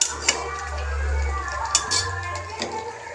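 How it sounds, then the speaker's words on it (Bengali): A metal lid comes off a cooking pot with a few light clinks and scrapes, over a steady low hum of the kitchen stove, close and moderately quiet. "ঢাকা খুলে নিচ্ছি।"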